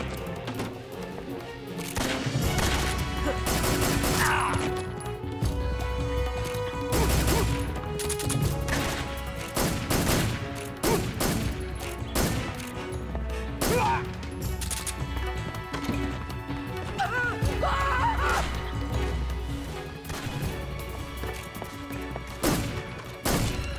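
Gunfire crackles through a forest showdown in Metal Gear Solid 3, with repeated sharp shots and bursts scattered across a busy game soundscape of thuds and background sound.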